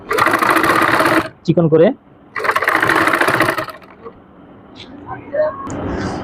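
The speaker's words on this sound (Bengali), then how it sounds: "এই কাপড়ের উপর একটা চাপ সেলাই দিয়ে নিব" A sewing machine top-stitches trouser fabric in two close, loud runs of fast, rattling stitching, each lasting about a second, with a person talking between and after them.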